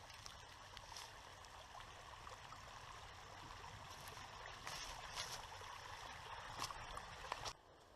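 Water in a creek at Machine Falls flows with a soft, steady rushing and trickling, faint and continuous with a few light splashes toward the end.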